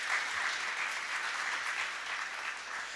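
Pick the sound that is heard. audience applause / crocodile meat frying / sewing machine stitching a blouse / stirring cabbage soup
audience applause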